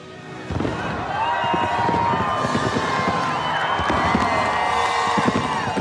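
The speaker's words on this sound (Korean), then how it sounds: "이 불꽃놀이 할 때 제가 제일 깜짝 놀랐었던 때입니다" Fireworks go off at the Republican convention after Trump's acceptance speech: a sudden burst of crackling bangs and whistling streaks mixed with a cheering, whooping crowd, loud and continuous.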